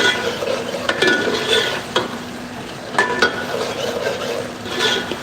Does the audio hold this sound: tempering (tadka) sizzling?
yes